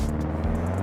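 Subaru BRZ mod driving in BeamNG.Drive, a steady low engine drone holding even and fairly loud throughout, with no voices.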